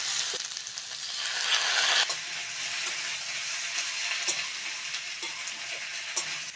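Cauliflower and potato fry in oil with ginger garlic paste, giving a steady close sizzle with a brief surge in intensity and a few light stirring taps. No one speaks.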